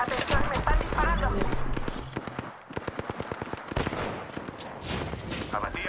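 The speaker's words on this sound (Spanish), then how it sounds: "Atención, me están disparando." Rapid gunfire bursts from the battle video game Apex Legends, loud and close, with repeated sharp cracks layered over busy game effects and intermittent talk.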